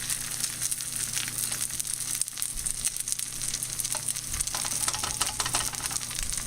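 Chicken omelet frying in a pan, a steady close sizzle with bright crackling spatter running continuously and evenly throughout, with a few brief louder pops, and nobody speaks.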